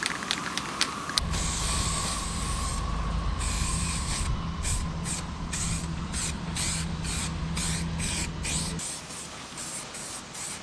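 An aerosol spray can sprays in long hissing bursts, preceded by a few quick rattling clicks of its ball bearing, then stops.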